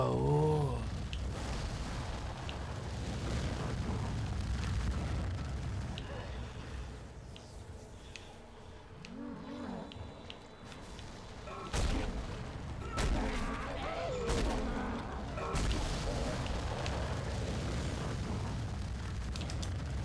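An exploder enemy in Dead Space is cued by audio within dense, continuous game sound, rumbling booms and eerie tonal effects layered throughout, with brief sharper hits standing out near the middle.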